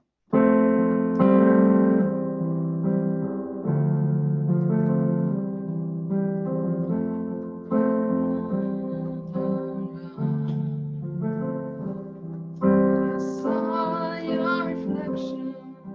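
Solo piano plays a slow, flowing chordal passage of a song in C with a melody on top, steady and close, without any voices.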